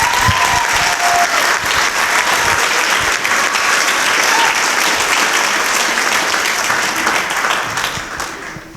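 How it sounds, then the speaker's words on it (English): A crowd at a congressional district candidate forum applauds steadily for several organizations, a dense, even wash of clapping that holds for several seconds and then fades out at the end. "Please join me in an applause for these organizations."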